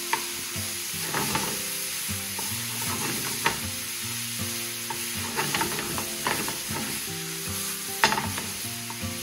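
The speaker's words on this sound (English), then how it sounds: "Cook the onions through and the peppers and the tomatoes." Onions, peppers and tomatoes fry in a pan over medium heat, a steady close sizzle punctuated by scraping stirs and occasional utensil knocks.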